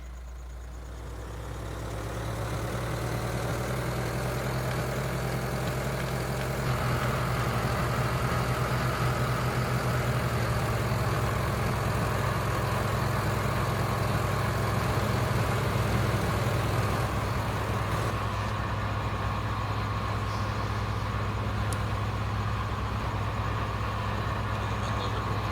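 Tractor engine idling steadily on a farm in Vojvodina, Serbia, a constant low mechanical hum that continues unbroken and fairly close, with no clear talking.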